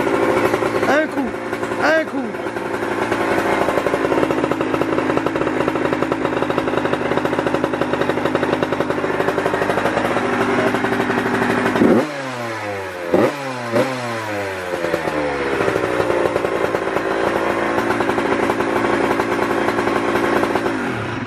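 A 1982 Yamaha YZ motocross dirt bike kicks into life and runs loud and close with a buzzing two-stroke note. The revs rise and fall in sharp blips partway through, and voices speak over the engine.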